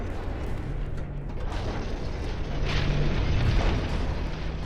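Warship guns fire in the naval combat game Ultimate Admiral Dreadnoughts, a steady rumble of distant booms and explosions over a dense low battle background, with no clear single shots standing out.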